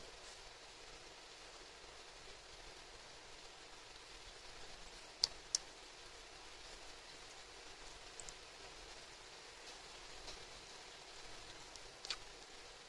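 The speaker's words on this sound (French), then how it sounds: "C'est de la pluie, il y a un peu de bruit." Faint, soft rain patters steadily in the background, with a few sharp ticks of drops landing close by; quiet and without voices.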